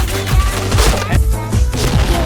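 Loud in-game explosion from the online shooter Point Blank, a heavy booming blast with crashing debris layered over continuous gunfire and game effects, with a player's voice faintly audible.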